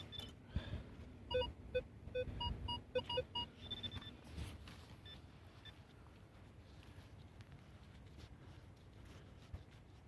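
A Minelab Vanquish 340 metal detector with a V8 coil sounds a series of short tonal beeps in quick clusters over a target on a cold, windy morning, with wind rumble running underneath.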